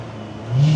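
Lotus Elise engine heard from inside the cabin, a steady low drone that rises into a loud rev over the last half second.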